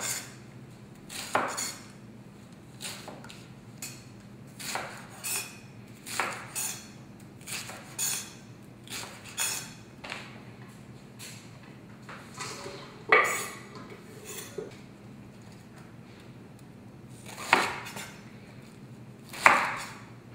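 A knife slicing radicchio into thin ribbons on a cutting board, crisp separate chops in a steady, unhurried rhythm, close and fairly loud with quiet gaps between strokes.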